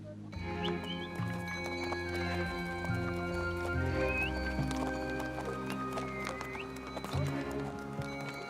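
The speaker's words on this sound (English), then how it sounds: "It's very difficult for the horses to walk here." Pack horses plod along a rough high mountain trail in Zanskar, hooves clip-clopping steadily nearby under a layer of background music, with an occasional faint whinny.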